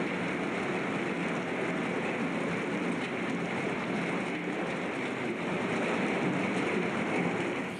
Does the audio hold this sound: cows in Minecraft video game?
no